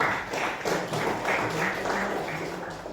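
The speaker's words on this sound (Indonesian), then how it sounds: "Tepuk tangan kembali buat Temi" Steady applause from a classroom group, a dense patter of many hands clapping together for a few seconds before gradually thinning out.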